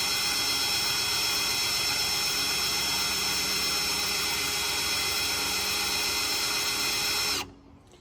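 A 4000hp blown Hemi engine in a Grand National idles on its first start, a steady muffled drone with a buzzing tonal whine, loud and constant, then cuts off abruptly near the end.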